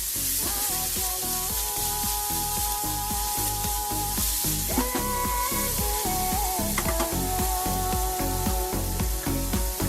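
Onions fry in a pan for a potato momo filling, giving a steady close sizzle that runs throughout with a regular rhythmic pulse and no talk.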